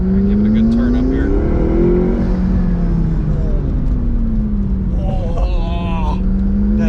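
A fire-damaged McLaren 650S that had sat for three years accelerates hard from the cabin, its engine droning and rising in pitch with turbo whooshes and flutter near the end. A voice talks over it.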